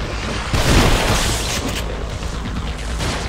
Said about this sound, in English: Shotgun, BAM!